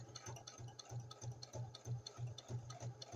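Sewing machine stitching along the bottom edge of a junk journal cover, a quiet, close, rapid rhythmic whir of about a dozen even needle strokes.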